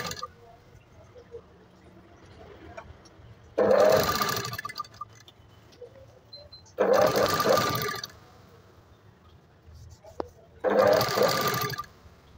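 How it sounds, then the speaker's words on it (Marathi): A sewing machine runs stitches over folded fabric pleats with a strip tucked inside, in three short bursts of close motor whir. Quieter gaps with a faint voice separate the bursts. "आता याच्यावर मी शिलाई 5 नंबरची शिलाई टाकून घेणार आहे, आतमध्ये पट्टी फोल्ड करून."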